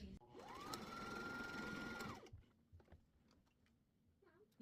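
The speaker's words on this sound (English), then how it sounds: "We're going to fold this backwards in half, and we are just going to stitch a straight line across." Sewing machine stitching a straight line across a folded oven mitt, a steady close whirring run of about two seconds, followed by quiet fabric handling and faint clicks.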